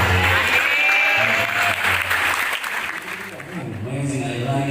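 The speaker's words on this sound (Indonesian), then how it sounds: "tepuk tangan buat mereka berdua" Applause from a studio audience on an Indonesian talk show about public speaking, a steady clapping wash mixed with voices and music, fading slightly midway.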